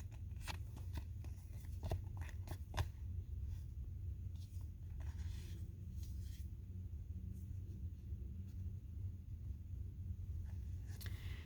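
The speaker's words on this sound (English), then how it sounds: "let me just continue my shuffle here" Tarot cards being shuffled by hand, soft riffling and sliding strokes in quick irregular bursts, close and quiet over a low steady room rumble, with no talking.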